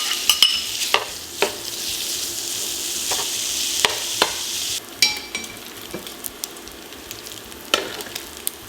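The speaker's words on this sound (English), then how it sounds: "And now add to the very hot pan your 4 slices of bacon." Four bacon slices fry in very hot olive oil in a pan, giving a steady loud sizzle with sharp spitting pops and scattered clicks throughout.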